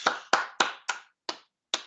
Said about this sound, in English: So that's worth a round of digital applause, I think.